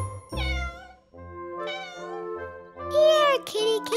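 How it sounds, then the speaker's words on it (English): A cartoon cat meows in a drawn-out, wavering call, followed by further pitched meows that grow louder toward the end, heard clearly with no talk over them. "trying to find who is making that meow sound. It sounds like an animal."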